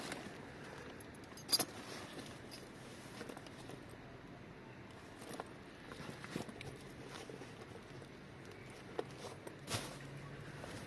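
Keys from a bag discarded in an outdoor trash bin jangle in a few brief, quiet clinks, with distant car traffic and faint rustling in the background.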